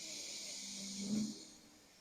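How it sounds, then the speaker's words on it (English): One slow, deep breath in and out, quiet and close, swelling briefly near the middle before fading. "take a deep breath in and out"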